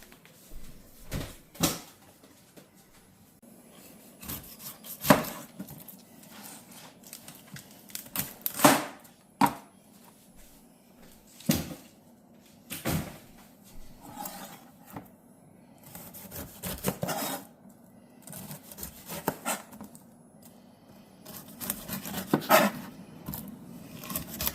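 A knife cuts up a small pineapple on a board, with irregular crisp chops and scraping strokes coming in bursts at close range, separated by short pauses.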